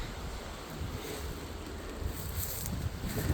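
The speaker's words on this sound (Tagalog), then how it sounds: "Medyo mahangin siya." Steady wind blowing across the microphone, a broad rushing roar that swells slightly toward the end, with no voices.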